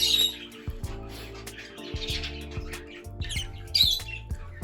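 A baby budgie squawks and chirps in quick, repeated calls while being hand fed, close and fairly loud, with faint clicking and rustling underneath.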